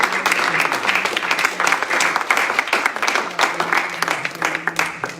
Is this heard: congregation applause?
yes